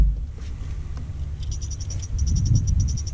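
A Livingston topwater bass fishing lure gives off a steady, repeating electronic chirp like a cricket, a run of evenly spaced high pulses over low rumbling background noise outdoors in a remote spot.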